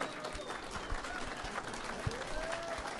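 A debate audience breaks into sustained applause, many hands clapping in a continuous crowd roar, with faint murmurs beneath.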